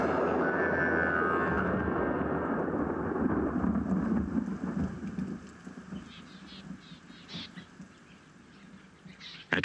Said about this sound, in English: the weather closes in and rain squalls make the track impassable